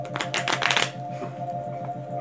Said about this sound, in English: I'm going to do a shuffle